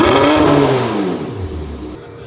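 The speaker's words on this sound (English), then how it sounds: "You want me to start revving it without the rev limiter and see if we can get it?" A straight-piped Porsche 918 revving hard in neutral, loud and close, its engine note sweeping upward and then falling away as the revs drop, alone without talk.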